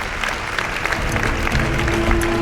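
A studio audience claps at the close of a live radio broadcast, a short, loud burst of applause with a steady tone running beneath it.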